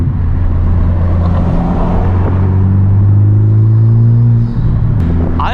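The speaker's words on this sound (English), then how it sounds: "downshifts sounded really good just with the catback exhaust, but with the downpipe it's just, it sounds more vicious" Car downshifting into third from neutral at 30 mph, fitted with a catted downpipe and street catback exhaust: a loud, close, sustained engine drone that swells as revs rise, then a sharp rev blip near the end.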